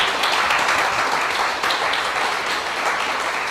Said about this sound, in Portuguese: eu queria que você desse uma salva de palmas ao Senhor.